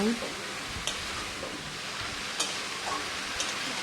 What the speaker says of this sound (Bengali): এখন এই পেঁয়াজের সঙ্গেই চিচিঙ্গাটা বেশ কিছুক্ষণ ধরে নেড়েচেড়ে ভেজে নেব